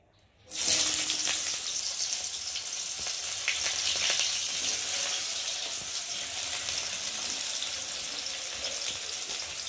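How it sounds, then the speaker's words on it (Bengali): Onions hit hot oil in a heated wok and burst into a loud, steady sizzle that holds unbroken for nearly ten seconds, with faint stirring scrapes underneath. "এখন আমি পেঁয়াজগুলো দিয়ে ভালো করে ভেজে নেব"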